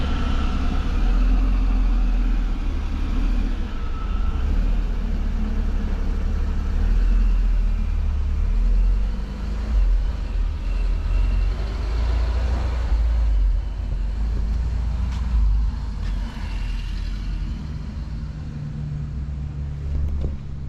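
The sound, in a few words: turbocharged car engine running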